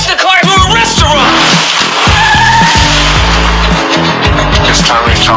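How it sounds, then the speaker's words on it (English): Tires squeal in a loud car skid within a dense, heavily scored action movie trailer mix, riding over pounding low hits and a continuous roar. "You smashed the car through a restaurant!"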